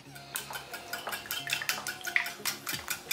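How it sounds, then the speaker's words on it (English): Eggs being beaten in a mixing bowl for a sweet purple yam omelette, a quick run of light clinking, tapping strokes against the bowl, close and steady, with no voices. "Beat your eggs."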